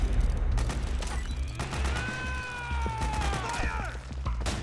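Bursts of gunfire from the Metal Gear Solid 4 video game, several loud cracks over a few seconds mixed with shouting soldiers and battle noise.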